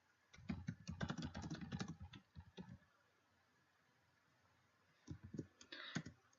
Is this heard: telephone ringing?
no